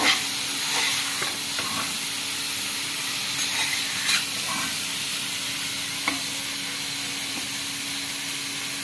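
Steady sizzle of onions frying in a pan for a fish curry, with scraping stirring strokes now and then and a faint background hum.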